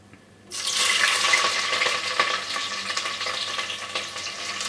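Green chillies dropped into hot oil with garam masala for a prawn rice dish, a sudden burst of loud, hissing sizzle that stays steady and close.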